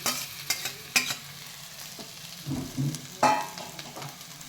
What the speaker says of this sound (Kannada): ಇವಾಗ ಇದನ್ನು ಚೆನ್ನಾಗಿ ಮಿಕ್ಸ್ ಮಾಡ್ಕೋಬೇಕು.